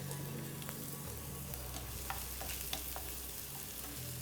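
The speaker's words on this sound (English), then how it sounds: "We want the onions to actually get soft. That's the essence of us sauteing this." Onions soften and saute in a pan over medium-high heat with a pinch of salt, a steady close sizzle with occasional stirring scrapes and small pops, no voices.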